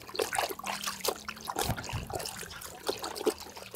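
Clothes being hand-washed in a basin of water in Moldova: repeated soft splashes and trickling drips, close and fairly quiet, with no talking.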